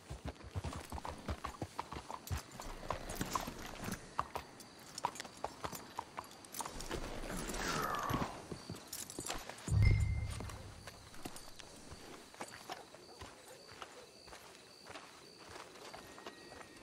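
Steady clip-clop of horse hooves walking along in Red Dead Redemption 2, in Saint Denis, with a few heavier thuds partway through and faint background noise.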